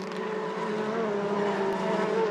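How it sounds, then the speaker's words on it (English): A touring race car in the 2013 WTCC round in Austria squeals its tyres through a chicane with a sustained, wavering whine over engine roar, steady and fairly loud, with no voices. "You can hear the tyres squealing."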